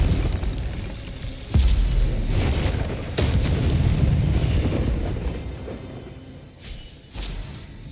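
Incendio fire spell cast in Hogwarts Legacy, a deep booming burst that swells and rumbles, followed by further heavy blasts over a few seconds.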